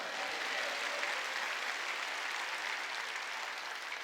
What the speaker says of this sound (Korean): 여기 와서 예배 드린 자가 보고 있는 걸 믿으면 박수 치자.